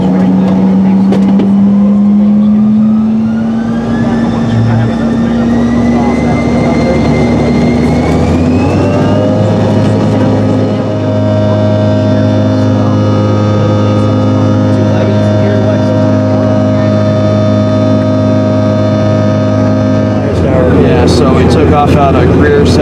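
Steady drone of a Cessna 172 light aircraft engine in flight, loud and continuous with a low propeller hum and a slight pitch shift early on, steadying for most of the stretch.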